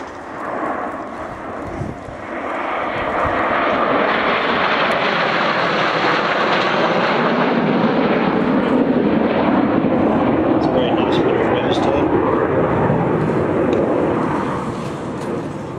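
A propeller aircraft passes low over a Cotswold airshow display, its engine roar building from a rumble into a loud, sustained drone that lingers before easing off, with faint talk underneath.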